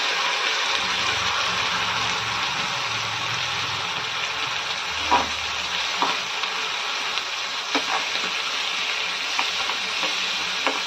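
Methi tomato curry paste sizzles and fries steadily in a pan, a constant crackling hiss close by with occasional sharper pops and spatters as it cooks.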